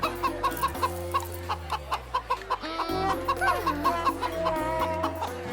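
A rooster clucks in a quick repeated series of short calls, fairly close, over a low steady background drone.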